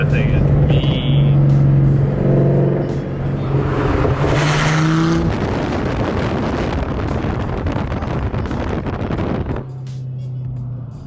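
A Ford Mustang GT or Lamborghini sports car accelerating hard on the road, a loud sustained engine roar that rises in pitch and is buffeted by wind noise, with excited voices talking over it.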